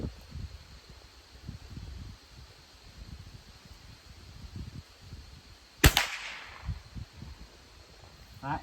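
One sharp, loud report from a USSR Toz-8M .22 LR bolt rifle fired at a 100-yard target while being sighted in, standing alone against outdoor wind and rustle, with a short echo trailing off.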